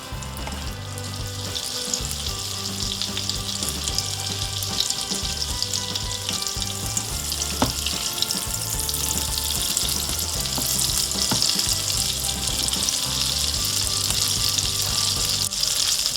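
Sweet cream unsalted butter melting in extra virgin olive oil in a pan for a flat iron steak stir fry, giving a steady, close frying sizzle with faint clinks, continuous and alone without talk.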